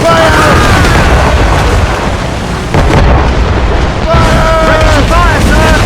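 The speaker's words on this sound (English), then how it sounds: "She's firing a volley!" A ship's cannon volley in Assassin's Creed Rogue, rumbling thunderous booms layered over rain-like sea noise and wind, loud and sustained, with shouting voices before and after the blasts.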